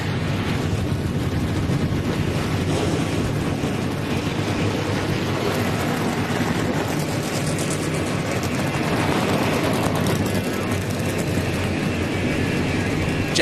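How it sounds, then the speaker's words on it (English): Race engines fire up at Bristol Motor Speedway for the 2014 UNOH 200, blending into one loud, continuous roar that fills the whole stretch without a break. "Drivers, start your engines!"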